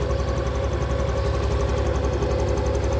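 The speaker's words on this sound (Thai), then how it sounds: "ตัวนี้เครื่องติดแล้วนะครับเครื่องเงียบมาก แล้วก็นิ่งมากนะ" A Honda Wave 110i motorcycle engine idles close by with a steady, even, fairly quiet hum that has no revving or talk over it.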